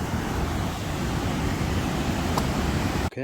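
Loud, continuous roar of a waterfall at the Canada border fills the whole stretch, a constant wash of rushing water ending in a brief sharp knock.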